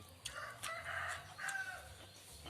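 A rooster crows a few times from some distance, its calls rising over a low, steady background hum.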